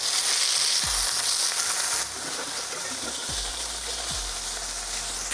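Hamburger patties for Salisbury steak sizzle steadily in a hot pan, a constant bright frying hiss broken by a few soft knocks and scrapes as a spatula turns them.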